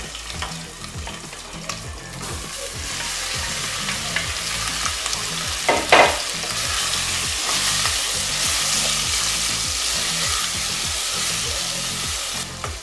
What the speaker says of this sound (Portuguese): Quando o óleo estiver esquentando, acrescente a carne.